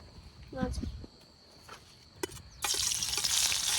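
Chilies dropped into hot oil in a pan while cooking outdoors in a farm field burst into a loud, steady sizzle that fills the final second, following a voice and a few brief clatters.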